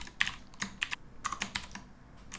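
Typing on a computer keyboard while building a header element in a code editor: quick bursts of close, crisp key clicks in uneven clusters, alone without talk.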